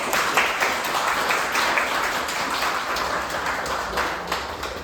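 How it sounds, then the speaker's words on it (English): Audience applause at an artist talk on dreams and folklore, a steady wash of many hands clapping at close range that holds evenly for several seconds with no voices over it. "can we give Michael a round of applause?"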